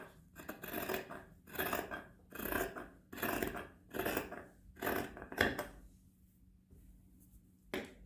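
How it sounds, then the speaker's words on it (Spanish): Scissors snip through fabric to trim away frayed edges before sewing, about six cutting bursts in a steady rhythm, close and clear, then a pause and one last snip. "Y si está muy deshilachada la tela, también le cortamos el deshilachado. Vamos a cortar acá también."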